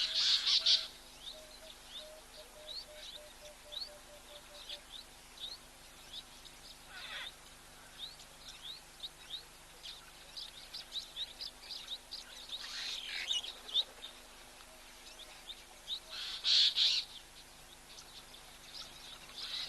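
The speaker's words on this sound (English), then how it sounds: "apart from all these birds, which is also wonderful" Many birds call around an African waterhole, with repeated sharp chirps and tweets, some louder bursts standing out over a quiet, faintly humming background.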